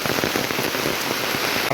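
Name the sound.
heavy rain falling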